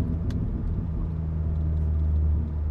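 A tuned 2018 VW Golf R MK7.5 with a Stage 1 flash tune rumbles nearby with a low, steady exhaust burble throughout and no speech.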